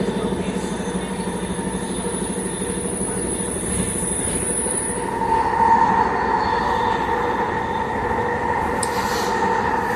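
A Vancouver SkyTrain Expo Line metro train rumbles steadily along at speed, with loud continuous rolling noise, a high whine and occasional squeals, no talking.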